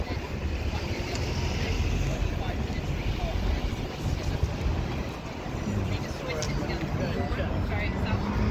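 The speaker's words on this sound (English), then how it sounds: "Oh, wind blowing up a bit." Wind blowing up outdoors on a street, a continuous broadband rush buffeting the microphone at moderate level with faint background activity throughout.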